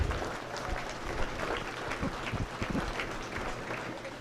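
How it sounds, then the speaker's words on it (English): Scattered applause for steer exhibitors in a beef cattle judging ring at the 2025 Dodge County Fair, faint and distant, with a few sharper knocks and general barn noise. "Let's give these steer exhibitors a nice round of applause."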